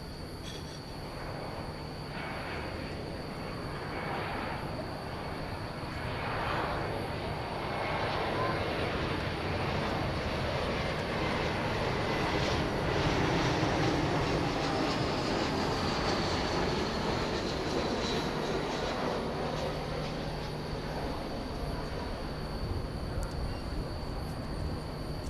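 Boeing 747 jet engines roar steadily at DFW airport at night, a broad distant rumble and whine that swells slowly and then holds.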